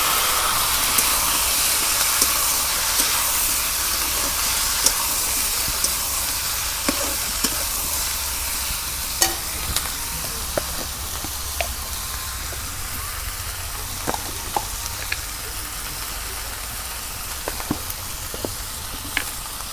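Eggplant sizzles in hot oil with frying onions for a fish and eggplant curry. A continuous bright hiss runs throughout, broken by scattered clicks and scrapes of stirring.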